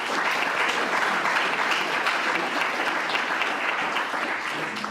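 Steady, dense applause from a large lecture audience welcoming a speaker to a talk on US-Cuban relations, sustained at an even level throughout with no voices over it.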